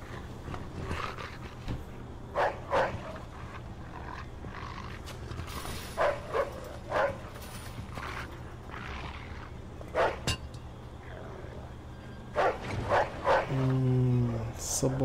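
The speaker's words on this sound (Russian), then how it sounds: "Собака, да?" Dog barking in the Mafia 2 video game, several separate barks and growly yelps scattered over a steady game ambience, with people talking at times.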